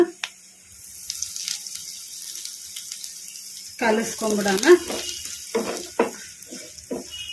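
Curry leaves, dried red chilies and asafoetida dropped into hot oil for an onion pickle tempering, a quiet start that breaks into a sharp burst of spitting sizzle and crackle, fading into intermittent pops.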